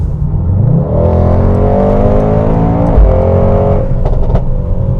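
A Mercedes-AMG GT 63 4-Matic+ engine revs hard and climbs in pitch as it accelerates from about 90 to 140, loud and close, with a brief gear-change dip before pulling again.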